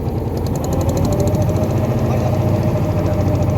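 A trawler boat's engine chugging loud and close on a river during a chase, a steady rapid knocking drone with no pause and no talk.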